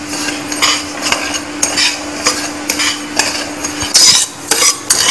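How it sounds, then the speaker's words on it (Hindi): Dry semolina (sooji) roasts in a pan over a low flame, a spoon scraping and clinking against the metal in quick, uneven strokes, loud and close, with only faint sizzling and no voices. "इसको बिल्कुल लो फ्लेम पे भूनना है।"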